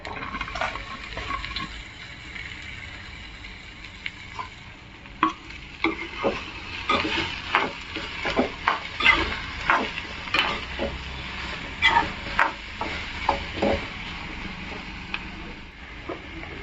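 Finely chopped green chillies and okra are stir-fried in a pan: a quiet sizzle at first, then a run of rhythmic spatula scrapes and knocks that grow busier, with no talking.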